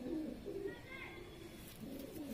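Domestic pigeons of varied breeds coo in low, soft, repeated phrases close by, with a faint chirp in between.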